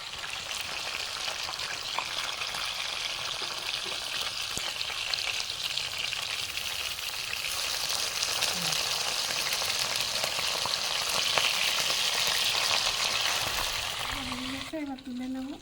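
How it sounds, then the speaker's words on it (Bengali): Fish frying in hot mustard oil for a Bengali fish curry, a steady bright crackling sizzle that swells midway and stays close, with a brief voice and a clatter near the end. "এবার মাছ ছেড়ে দেবো, তেল গরম হয়ে গেছে।"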